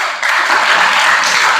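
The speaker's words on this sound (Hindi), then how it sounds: "फिर भी इनके लिए तालियां बजाओ।" A studio quiz show audience applauds a contestant after a wrong answer, a dense burst of many hands clapping together at close range for a short stretch, with no voices over it.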